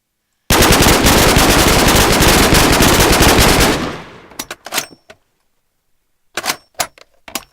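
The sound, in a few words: MP5 submachine gun firing in a video game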